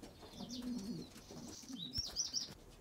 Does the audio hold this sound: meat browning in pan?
no